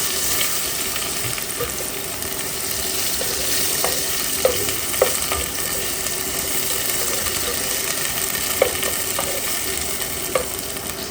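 Ginger sautés in hot cooking oil, giving a steady close sizzle and crackle with a few sharp spoon or spatula clinks against the pan; no one speaks.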